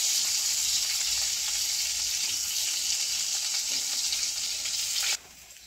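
Eggplant slices fry in a pan with a loud, close, continuous sizzle that cuts off abruptly near the end, and no one speaks.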